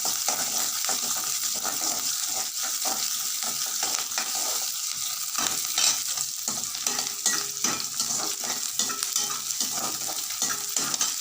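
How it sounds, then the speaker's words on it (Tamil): Onion and garlic sautéing in a pan for sambar, a steady loud sizzle with frequent scraping stirs of a spoon against the pan throughout, no voices. "பூண்டு அதையும் போட்டு வதக்கணும்"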